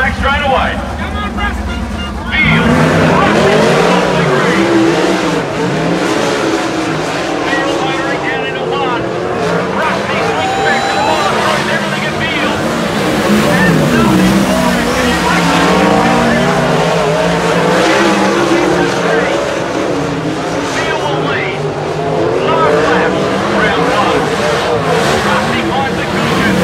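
Sprint cars racing on a dirt track at Darwin, engines roaring loud and continuous with shifting pitch as the field passes, under an excited race commentator talking throughout.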